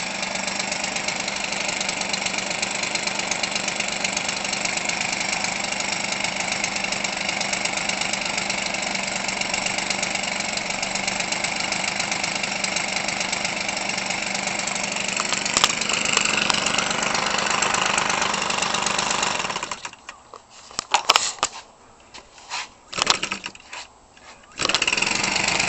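A Weedeater Featherlite new-design 25cc two-stroke engine converted for RC use runs at a steady, buzzing idle for a long stretch, then stutters and surges in uneven bursts as the throttle changes, loud and close.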